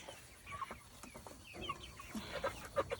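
Several hens cluck in a small, crowded backyard homestead flock that includes a Legbar hen, a blue-egg layer; short clucks and chirps come close together, some near and some a little farther, with no talk over them.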